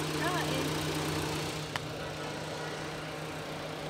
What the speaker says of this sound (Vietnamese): Cho các anh chị mình nghe tiếng máy nổ luôn ha.